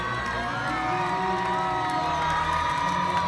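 A home crowd at a Stanford versus Arizona State college volleyball match cheers loudly and steadily after the set-winning point, with dense shouting and whoops filling the arena.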